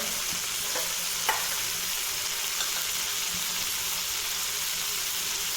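Masala sizzling steadily in oil in a pan for a chole curry, with half a spoon of turmeric added, a broad even hiss with a few soft stirring scrapes and clicks, close and alone with no talk.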